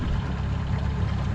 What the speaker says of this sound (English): As you bump it up, hear the motor increase.